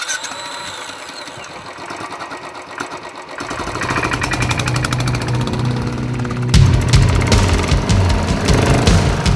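A Royal Enfield Bullet 500 with a 499cc single-cylinder four-stroke engine thumps at a low, steady idle, then builds into a loud, throbbing run with a sharp rise in revs partway through.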